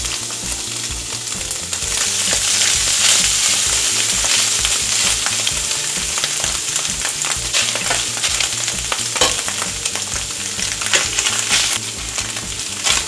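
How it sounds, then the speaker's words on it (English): Beef for vaca frita sizzles and fries in a very hot pan, a steady dense crackle running close and loud throughout with occasional stirring scrapes. "So we're gonna put the meat in here. We're gonna spread it around."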